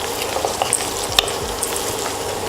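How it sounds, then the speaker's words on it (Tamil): Onions frying to golden brown for prawn biryani, giving a dense, even crackling sizzle close up, with a few soft stirring knocks and a brief metallic clink partway through. "எப்போவுமே பிரியாணிக்கு ஆனியன் வந்து நல்லா கோல்டன் ப்ரௌனாக ஃப்ரை ஆகணும்"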